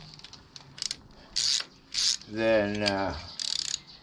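A ratchet strap is cranked tight while holding up the rear differential of a Wheel Horse tractor, giving several loud close bursts of clicking ratchet action; a voice speaks briefly.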